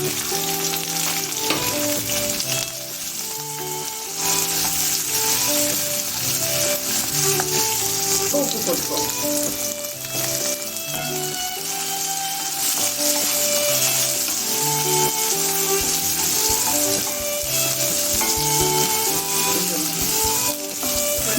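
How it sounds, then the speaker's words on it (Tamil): Green chillies sizzle and crackle steadily in hot oil for gobi manchurian, a loud, close, continuous frying hiss with occasional stirring and faint background music. "இப்போ பச்சை மிளகா போடணுங்க குறை மிளகா போடுறேன்"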